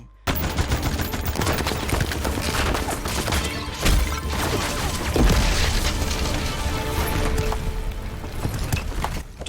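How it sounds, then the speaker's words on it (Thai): Soldiers in a film fire their guns in a long, dense barrage of rapid, overlapping gunshots and bursts, loud and continuous, with occasional heavier impacts. "พวกทหารก็รัวปืนใส่ไม่ยัง้ง"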